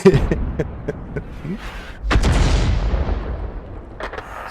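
Crusader 5.5-in. self-propelled artillery fires in a video game battle on the Laswille map. One loud, deep cannon boom lands midway and rolls off into a long rumbling tail, with light clicks and softer thuds around it.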